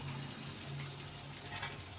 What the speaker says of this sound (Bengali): খুব সুন্দরভাবে ভাজতে হবে কোপ্তাগুলো আস্তে আস্তে ভাজা হোক